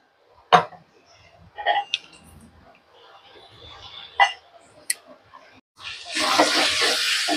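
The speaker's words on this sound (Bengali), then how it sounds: "আমি আরেকটু জল দেব" Water pours into a pan of aloo posto near the end, a close rushing splash, after scattered clinks and handling sounds.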